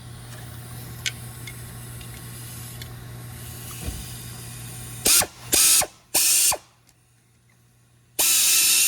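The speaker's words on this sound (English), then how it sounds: "Just continuing taking the rest of the bolts out" Timing cover bolts on a Toyota 2.4L engine are loosened with a hand ratchet, giving a few faint clicks before several loud, close bursts of rapid ratcheting separated by short pauses, with no talking.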